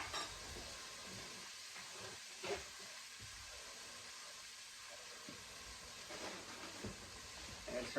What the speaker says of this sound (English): I'm not trying to add color to the garlic and onions. I'm just trying to sweat it, get it translucent